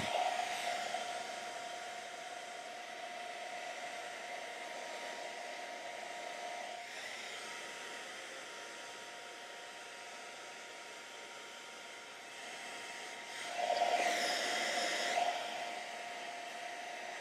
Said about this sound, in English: You want to let the blow dryer heat up.